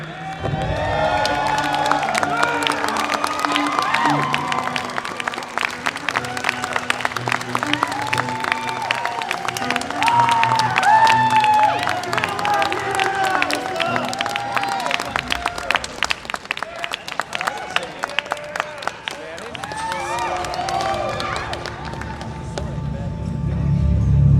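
A convention audience at a cosplay contest applauds and cheers a contestant, sustained clapping from a sizeable crowd with voices talking over it throughout.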